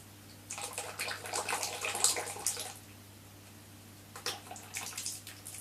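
Liquid face-casting mix is poured into a container, a faint splashing trickle in two bursts, a longer pour and then a shorter one, close and quiet against a low background hum.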